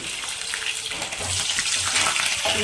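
Curry leaves frying in hot oil in a kadai, a loud continuous crackling sizzle with sputtering bursts throughout, no talk.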